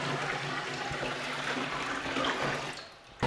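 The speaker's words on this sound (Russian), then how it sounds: "Еще 5 литров налил" Another five liters of water gush into a marine aquarium in a steady rushing pour that thins out briefly near the end before a final splash.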